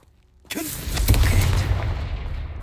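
A Confringo blasting spell in a Harry Potter video game, bursting as a sudden loud blast with a deep rumbling boom and crackling debris that trails off over about two seconds.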